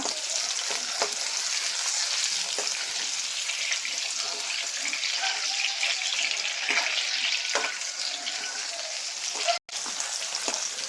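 Onions sizzling and crackling steadily in hot oil, continuous frying noise with occasional stirring clinks.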